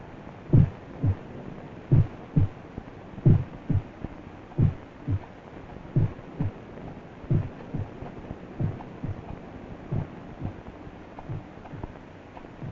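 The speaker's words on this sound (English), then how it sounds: "For many minutes the heart beat on with a muffled sound." A heartbeat sound effect for an audiobook reading of Edgar Allan Poe's The Tell-Tale Heart: low, muffled thumps in steady double beats, about one pulse every 0.7 seconds, continuing alone for roughly thirteen seconds.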